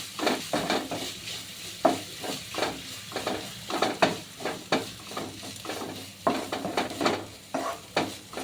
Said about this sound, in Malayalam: ഒരു സ്പൂൺ കുരുമുളക് പൊടി, കുറച്ച് ഗരം മസാല നന്നായിട്ട് ഇളക്കി യോജിപ്പിക്കും.